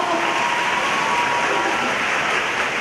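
A concert audience applauding, a dense, steady wash of clapping from a large indoor crowd, loud and continuous for the whole stretch.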